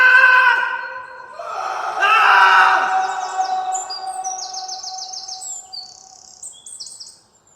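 Many people scream in a jungle, loud overlapping wailing cries in two bursts that fade out, followed by high, faint chirping calls as things go quiet.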